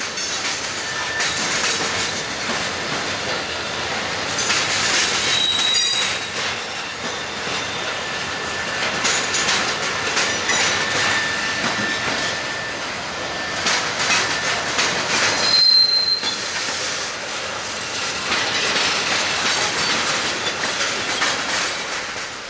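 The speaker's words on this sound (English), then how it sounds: "It's 385, daily mixed freight that will be heading down to the 3B district." A diesel freight train, a 5,000-horsepower former Conrail engine hauling mixed freight, rumbles past nearby, steady wheel clatter and rail noise with occasional high squeals, continuing loudly for the whole stretch.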